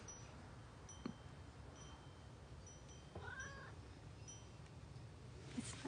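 A cat meows at a party, a few short calls with some rising caterwaul-like tones over a quiet room background, heard alone without talk.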